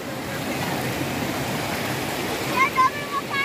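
Large waterfall at Salto das Orquídeas in Sapopema, Paraná, a steady loud broadband roar of falling water throughout, with faint voices briefly audible near the end.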